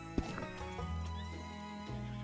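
A horse in the Red Dead Redemption 2 video game lets out a loud, wavering whinny over soft hoof clop and background game ambience.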